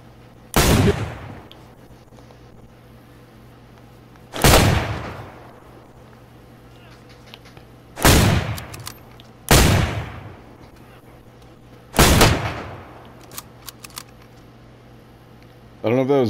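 Five loud, sharp gunshots ring out in a DayZ match, spaced a few seconds apart, each cracking sharply and then decaying into a brief echo over a quiet background hum.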